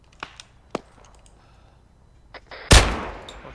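Gunfire in the military video game ArmA 3: a few sharp isolated shots and clicks, then a loud close blast with a lingering rumbling tail.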